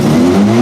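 A Fusion car's engine revs hard and holds a loud, steady high-RPM whine near redline, close by, with no talking.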